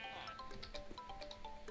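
Sheep bleating in the Minecraft video game, several short synthetic bleats repeating over a quiet background.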